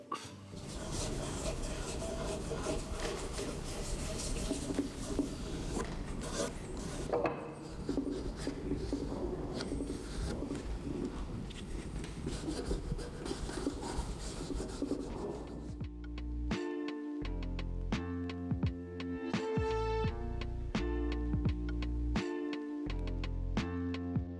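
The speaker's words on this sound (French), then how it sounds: "je mets pas mal de pression pour écraser la cire dans les petits trous, ce qu'on appelle les pores du bois" Hand-rubbing wax hard into the open pores of a wooden piece in a cabinetmaker's workshop, a steady dry scrubbing friction sound that continues for a long stretch before music takes over.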